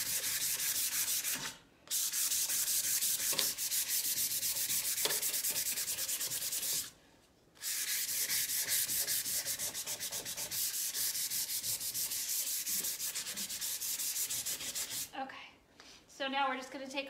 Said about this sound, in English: So we're gonna get hit that with the sander.